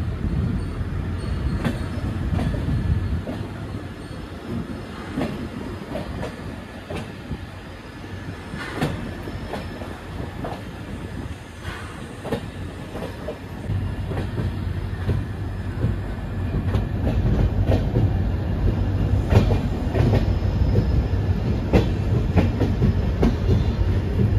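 The Goa Express train runs along the track between Miraj and Vasco in monsoon season, with a steady rumble and repeated clickety-clack of wheels over rail joints, loud and continuous with no talking.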